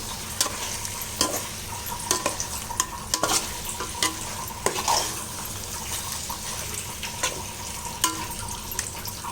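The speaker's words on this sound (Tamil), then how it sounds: "இதில் நம்ம சிக்கன் போட்டு ஊற வச்சதை இதில் அப்படியே போட்டுடணும் இப்போ இதை நல்லா வதக்கி விட்டுடணும்" Marinated chicken sautés in a pan for seeraga samba chicken dum biryani, a steady sizzle under repeated close spoon scrapes and clinks at an irregular pace, and no speech.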